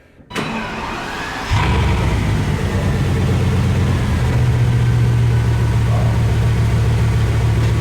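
A broken Bugatti Veyron's engine fires up with a sharp start, then settles into a loud, steady, deep idle that holds close and continuous with no talking.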